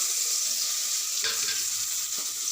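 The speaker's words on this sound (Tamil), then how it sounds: "சோம்பு, 4 கிராம்பு, ஒரு பட்டை, கொஞ்சம் கடல்பாசி எல்லாம் நல்லா பொரியட்டும்" Oil sizzles and crackles steadily in a pan as fennel seeds, cloves, cinnamon and stone flower fry over medium flame, loud and close, with a couple of faint stirring scrapes partway through.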